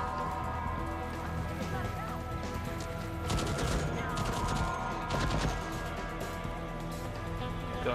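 Gunfire aimed at the player in Deathloop, heard as dense crackling bursts of distant shots over steady game ambience and music, swelling in short clusters.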